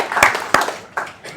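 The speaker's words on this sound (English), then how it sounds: "give yourselves a round of applause" At a Che Day celebration, a few scattered, separate hand claps ring out in an irregular rhythm rather than a full ovation, sounding fairly close.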